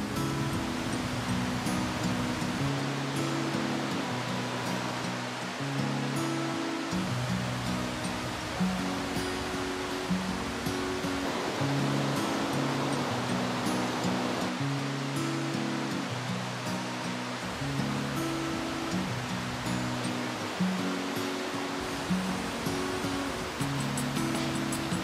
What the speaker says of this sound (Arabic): ويبلش المي يقوى والصوت يقوى